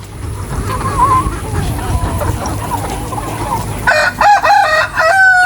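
Roosters being caught by hand cluck and rustle nearby, then break into loud, close crowing calls near the end, with a faint voice in the background.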